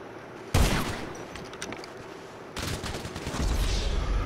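Gunfire in GTA Online, a sharp shot followed by sustained rapid bursts of automatic fire that keep going to the end, loud and close with no talking.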